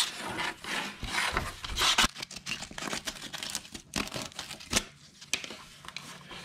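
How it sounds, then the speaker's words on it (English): Sandpaper scraping around the holes of a 4Runner rear seat upholstery piece, giving irregular rasping rubs with sharp bursts, close and fairly quiet, with no talking. "take some sandpaper and just scrape around every hole"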